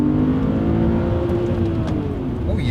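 A Subaru Legacy Spec B estate with a 3.0 H6 engine accelerating hard, its flat-six note rising steadily and loud from inside the car.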